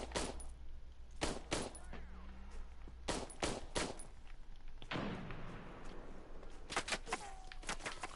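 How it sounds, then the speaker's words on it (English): Bursts of gunfire from a shooter game on a PS4, several sharp shots scattered through the clip over a steady background of game ambience, fairly loud and close. "I'm gonna shoot this guy"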